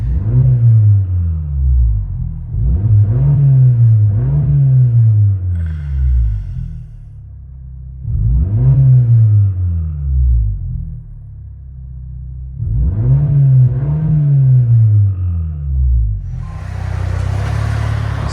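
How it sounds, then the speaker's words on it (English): A 2023 Hyundai Santa Cruz with its 2.0L turbo dual exhaust and open cutout valve revs repeatedly, each loud, close, deep rumbling rise falling back to a low burble, with a hissing rush at the end. "Santa Cruz duals with valve open"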